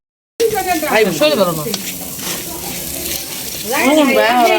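Steady frying sizzle hisses throughout as barbecue pieces cook over an open fire at a winter outdoor party, while people talk close by, voices rising and falling over the crackling.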